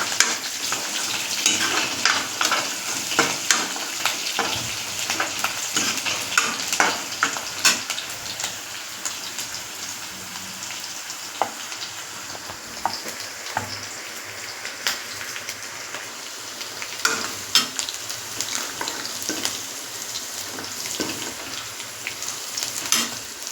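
Green chillies sizzle steadily in hot oil in a pan, with intermittent scraping and clinks of a spoon stirring them, continuous crackling throughout and no talking.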